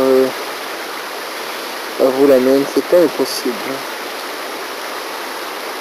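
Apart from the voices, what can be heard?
river stream flowing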